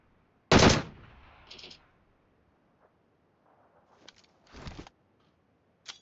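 Gunfire in the PUBG Mobile battle-royale game: a loud, close burst, then short, fainter shots spaced irregularly over several seconds, with quiet between them and no talking.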